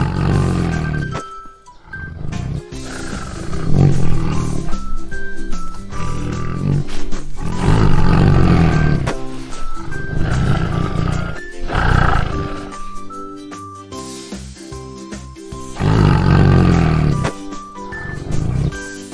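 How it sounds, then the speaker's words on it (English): A tiger roars and growls loudly for nearly twenty seconds in long rising bursts with short pauses, close and alone. "Tiger."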